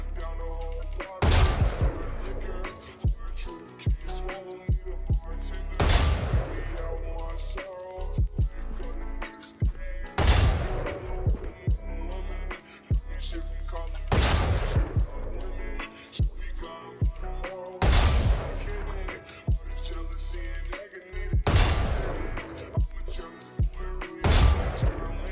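Gunfire in a first-person shooter deathmatch with a sheriff pistol: single sharp shots ring out at regular intervals of a few seconds, loud and close, with quiet game ambience between them.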